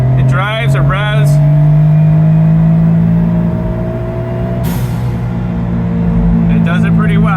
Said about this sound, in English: as you can see, it drives, it revs